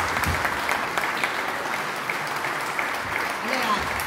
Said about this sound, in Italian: adesso un grande applauso a Marco Zambolin